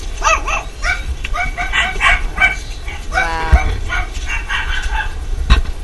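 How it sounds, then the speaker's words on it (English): Several dogs at an animal hoarding home bark and yap in the background, moderately distant, with a brief spoken exclamation over the noise. "You can hear the dogs in the background."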